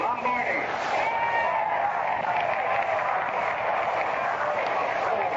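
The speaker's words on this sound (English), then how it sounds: "the first man to bat, a Cincinnati boy, gets a tremendous hand from the crowd" A crowd at the 1938 MLB All-Star Game gives the first batter a steady, sustained roar of applause, heard through an old radio broadcast with an announcer talking over it.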